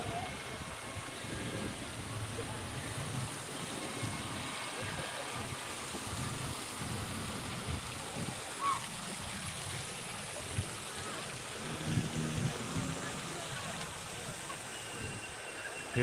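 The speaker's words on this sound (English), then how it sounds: "I can hear the waves." A steady, rushing wash of waves from a water park wave pool rolls on continuously at a distance, soft and unbroken throughout.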